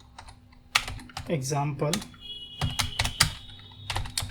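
Close, clacky keystrokes from a computer keyboard while typing code for a JavaScript lesson, in irregular bursts under someone speaking Hindi.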